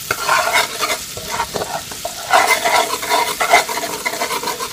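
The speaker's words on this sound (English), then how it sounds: "So I'm going to stir that garlic around, get it nice and sauteed in that wonderful extra virgin olive oil and butter" Garlic sautéing in extra virgin olive oil and butter as a spoon stirs it, loud close crackling sizzle in uneven bursts with scraping strokes against the pan, no talking.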